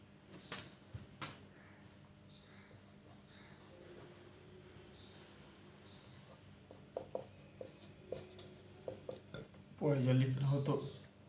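Pen scratching shorthand strokes onto paper in a short-hand lesson, soft scribbling running under a man's speech, with a louder burst of handling noise near the end.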